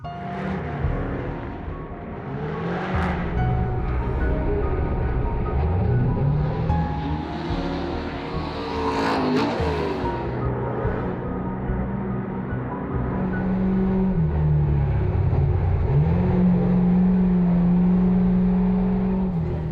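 Race car engine during a practice session at Wild Horse Pass track, steady loud motor drone with rising and falling revs and a car sweeping past near the middle, sustained throughout without talk.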